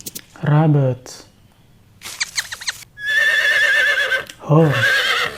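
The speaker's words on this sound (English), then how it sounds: "horse" Horse whinny from an animal-sounds lineup for children: a spoken word at the start, then a long, bright, wavering neigh through the middle and a second vocal burst near the end, loud and close.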